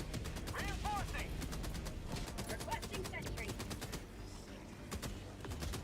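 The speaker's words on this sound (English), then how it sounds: "Auto cannon." Autocannon in Helldivers 2 firing rapid bursts of sharp, heavy shots in quick rhythmic volleys, with other gunfire and voices mixed in beneath.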